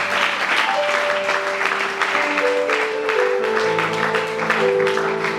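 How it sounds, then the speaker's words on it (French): A church congregation applauds continuously at a French-language service, with sustained clapping over held organ or keyboard chords. "Acclamons la parole du Seigneur."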